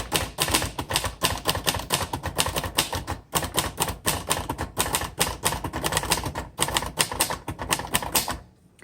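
Steady, dense keystrokes on a 1960 Royal Heritage manual typewriter, close up and fairly loud, with a continuous clatter of ticks broken by a few brief pauses and carriage movements.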